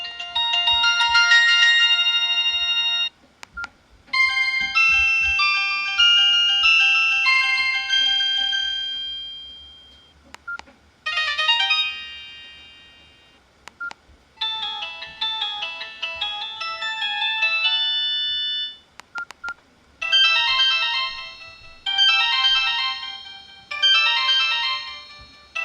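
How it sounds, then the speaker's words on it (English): A default phone ringtone plays loud and alone: a bright chiming melody in repeated phrases with short gaps between them, no talking over it. "everyone who has this phone seems to have this, because they like having the default ringtone"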